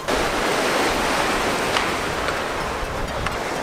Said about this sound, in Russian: Сейчас меня вот сзади волной накроет